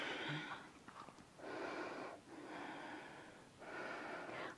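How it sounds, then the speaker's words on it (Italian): Slow, deep yoga breaths during a vinyasa session: three long, airy breath sounds close to the mic, each lasting about a second, separated by short pauses, with no talking. "Mi prendo il tempo per qualche respiro."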